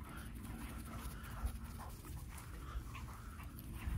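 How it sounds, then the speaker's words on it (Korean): Excited dogs on a cold late-autumn morning whimper and pant softly, a faint, rhythmic breathing and occasional small whines under a steady background hiss. "보리가 쉬고 있는데 써니가 자극하던 하면서 계속 뛰어다니면서 흥분도가 끝까지 치솟아오르고 계속 짖게 될 거예요."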